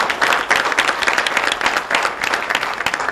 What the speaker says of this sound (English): Give this young lady a big round of applause.